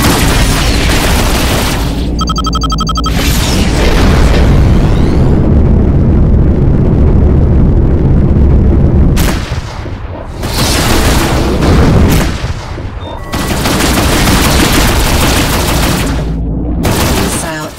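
Incoming missile strikes in the space combat game Rebel Galaxy Outlaw, loud booming blasts and rattling bursts of fire that come in heavy waves broken by short gaps, with a brief electronic beeping early on.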